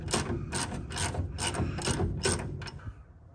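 A ratchet wrench clicks in rapid repeated bursts, about six strokes, close and clear, while removing a shock absorber bolt on a Chevrolet C10 truck being lowered.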